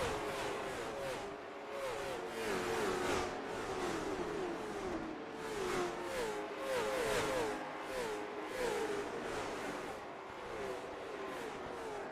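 Late model stock car engines from the iRacing sim at Nashville Fairgrounds roar steadily as a bunched field races, with overlapping revving and pitch shifts as cars pass, loud and continuous, with no talk.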